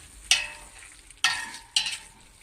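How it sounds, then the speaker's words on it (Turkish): Three scraping stirs of spinach and bulgur frying in a pot come at an uneven pace over a soft, continuous sizzle, close by with no voices. "Son defa karıştırıyoruz."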